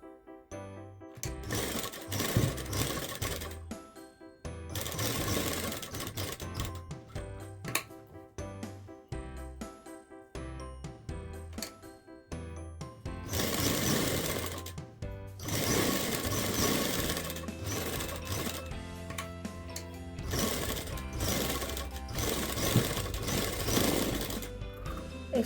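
A sewing machine stitches a pocket onto lining fabric in rapid mechanical bursts, running several times for a few seconds each with short pauses between, close and clear.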